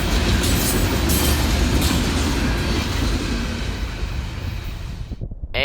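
Train rolling past on a railroad, a loud steady rumble of wheels with faint clickety-clack and hiss that thins out toward the end as the cars pass, with no speech.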